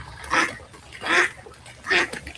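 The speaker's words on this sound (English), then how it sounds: "this is a dog and a duck racing" A dog and a duck race around together, with three spaced bursts of bright squawking or quacking-like calls over a low rumbling background.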